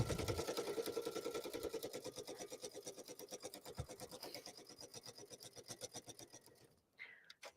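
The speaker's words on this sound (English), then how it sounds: "I'm just stitching this pocket in place" Domestic sewing machine running a straight stitch to sew a pocket in place on fabric, a steady rapid mechanical whir of needle strokes that slows and stops near the end, faint and close.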